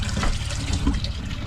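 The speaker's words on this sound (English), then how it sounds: "So I'm just gonna set it right down in there and pour the bait fish in there." Water splashing and running steadily as bait fish are poured into a bucket outdoors, a continuous close wash of liquid with no talk.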